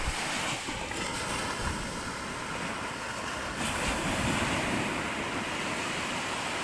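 Ocean waves crash and wash continuously against the shore, with gusty wind buffeting the microphone throughout.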